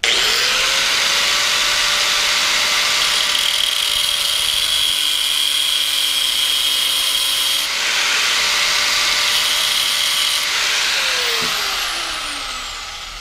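An electric sander grinds steadily on a motorcycle clutch part, a loud continuous whine with a shifting pitch that runs for most of the stretch before winding down near the end.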